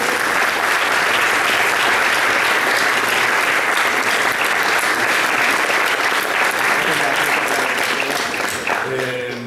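Sustained, loud applause from a festival audience honouring comics writer Kieron Gillen at the 30th Jornadas del Cómic in Avilés, a dense steady clatter of many hands that holds throughout and eases slightly near the end.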